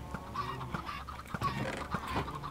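Minecraft chickens clucking in short, repeated bursts that sound close and clear, with no talking.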